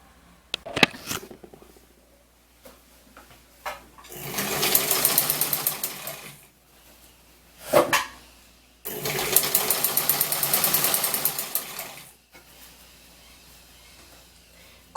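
A sewing machine runs a straight seam on a jumpsuit in two long, steady, close-up stitching runs, separated by a few quiet gaps and sharp knocks.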